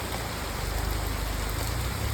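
Rain falls steadily in a dense, even wash of hiss, loud and close, with no speech over the downpour.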